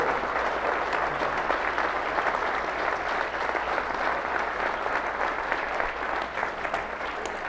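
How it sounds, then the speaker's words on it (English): Audience applauding the Attorney General at a political event with Ken Paxton, a dense, steady round of clapping from a crowd that holds strong for the full length without any speech over it. "I just like to give the Attorney General a round of applause for standing up"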